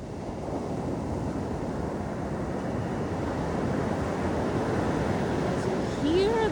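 Waves rolling onto La Playa Negra beach in Costa Rica make a constant close roar of surf that swells slightly toward the end, mixed with wind noise on the microphone and a brief high chirp near the close.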